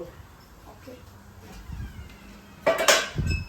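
A metal plate clatters against a steaming pan on the stove while kadabu are cooked in a home kitchen. One sharp clang and scrape arrives late, with softer clinks and a low background hiss before it.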